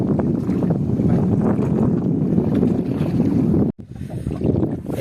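A fishing boat off Oman rumbles at sea with a constant low engine drone and heavy wind buffeting the microphone, broken by a sudden brief dropout before the rumble resumes.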